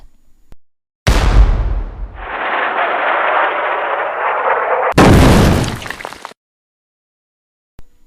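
Cannon and gunfire volley at the Alamo: a loud close boom with a long rumbling roar, then a second sharp blast about four seconds later that quickly cuts off into silence.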